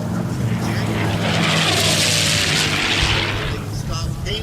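Unlimited-class racing airplanes, including the Allison-powered Crusader, at the Reno Air Races, a loud rising and fading engine roar as a plane sweeps past, with a commentator talking over it.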